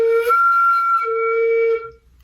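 A flute head joint blown on its own gives two sustained, breathy whistling tones, the second dropping lower, close and fairly loud before fading out.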